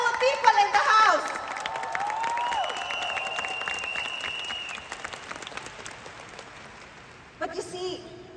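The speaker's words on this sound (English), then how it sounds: "Can we all give ourselves a round of applause today to all the successful people in the house?" Hall audience applauding together, a dense wash of clapping that holds steady and then fades away, with a voice speaking over the start and a brief sound at the end.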